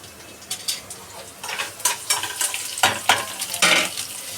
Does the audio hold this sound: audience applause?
no